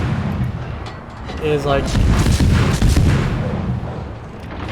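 The destroyer USS Kidd fires its guns in World of Warships, giving a rumbling boom and a sustained low roar that swells and fades, while someone talks over it.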